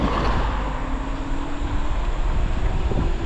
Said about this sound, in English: the train just came down